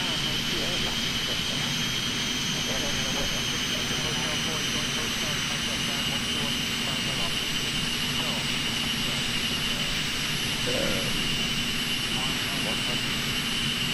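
In the X-Plane 11 flight simulator, an Eclipse 550 business jet makes its final landing approach, its engines producing a continuous, even jet drone with a high whining tone that stays at a steady level throughout.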